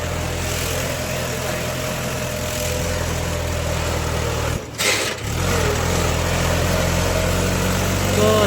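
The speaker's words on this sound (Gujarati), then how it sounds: "ટ્રેક્ટર યાર કોહે ભાઈ" A tractor hauling sand at night runs with a steady, rumbling idle close by. Its low drone drops out for about half a second near the middle, then settles back into the same even running.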